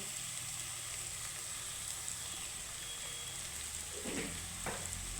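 Onions with a little turmeric powder frying in oil, a quiet continuous sizzle with a couple of soft stirring scrapes near the end.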